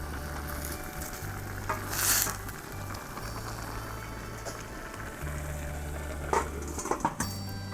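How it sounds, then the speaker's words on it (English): Tofu and pickled bamboo shoots bubble in a pot of water, a steady close simmering hiss with a low droning hum underneath and a few faint clinks. "Let it boil for 2 minutes."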